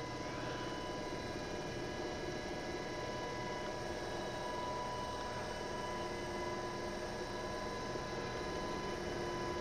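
A simulated UH-60L Black Hawk helicopter from CeraSim drones in a flight simulator over Manhattan, a faint, steady mechanical hum with sustained tonal whine, unbroken and even for the whole stretch.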